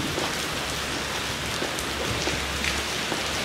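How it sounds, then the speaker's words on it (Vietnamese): Steady rain pours down over an outdoor cemetery during a Catholic mass for the deceased, a dense continuous hiss of drops on surfaces with no talk over it. "ở bên kia là nắng, còn ở đây chúng ta lại mưa"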